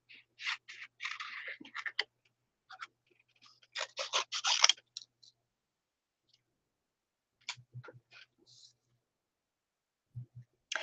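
Small scissors snip through paper in quick bursts of crisp, clicking cuts, quiet and close, with pauses between runs and faint voices in the background.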